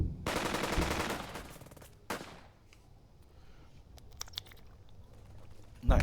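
Two squads open fire in the Burden of Command wargame: a dense burst of rapid gunfire up front, then a second sharp volley, tapering into scattered crackles and thuds, with a final loud hit at the end.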